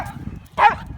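A big black Labrador lets out a single short bark toward another dog, moderately loud and close, after a quieter stretch of low background rumble.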